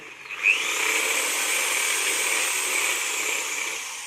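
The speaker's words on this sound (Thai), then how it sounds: "หลังจากนั้นเราก็ใช้สว่านนะครับขนาดใหญ่ เจาะเพื่อจะให้น้องเขาเป็นรู" A large electric drill bores a hole into a dried calabash gourd, a steady high-pitched whine that starts with a brief bite and runs continuously up close.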